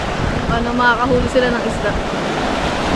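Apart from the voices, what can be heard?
waves crashing on the shore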